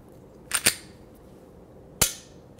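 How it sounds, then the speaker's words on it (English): A handgun dry-fired with no ammunition: a quick pair of sharp metallic trigger clicks followed by a single click about a second and a half later, close and crisp over a quiet room. "I will be setting the action on the gun so that it will dry fire when I press the trigger"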